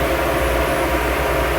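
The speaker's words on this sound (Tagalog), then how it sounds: "The motor keep starting and running." A ship's rudder steering gear motor runs with a loud, steady, dense mechanical drone and hum, filling the space at constant level with no voices.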